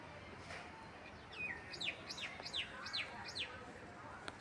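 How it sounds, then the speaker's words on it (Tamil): A myna bird gives a run of sharp, whistled chirps, about six repeated calls in quick rhythm, moderately near against a low outdoor background hum. "மைனா சத்தம்லாம் கேட்கும்"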